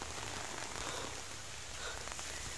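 Steady rain pours down on the surfaces around, making a continuous, dense hiss with no talking.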